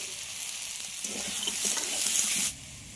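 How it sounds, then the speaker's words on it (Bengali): Soaked chickpeas go into a pan of softened, frying tomatoes, with a steady broadband sizzle that swells louder midway and then eases back to a lower hiss, no voices. "টমেটোটা গলে গেছে, এবার এতে দিয়ে দেবো ভিজিয়ে রাখা ছোলা।"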